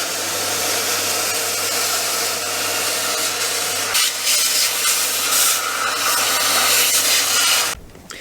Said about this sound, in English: Let's give these a hoover now and see what they look like.